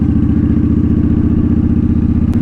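Honda Shadow motorcycle rolling along a back road, its steady low engine throb pulsing evenly and close, with no voices over it.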